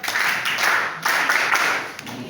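A group claps at an indoor gathering, a brief round of applause that rises and dips in a couple of surges, near and moderately loud with nobody speaking over it.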